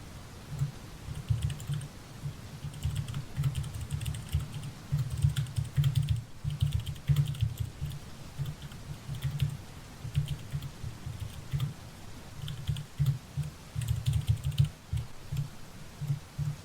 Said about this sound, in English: when I'm typing like that,